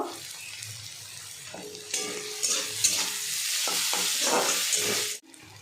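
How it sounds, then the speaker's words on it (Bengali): Onions frying in a pan with turmeric and chili powder as egg chorchori is cooked, a steady close sizzle with stirring scrapes throughout, ending abruptly. "পেঁয়াজগুলো ভাজা হয়েছে, অনেকটা লাল লাল হয়েছে"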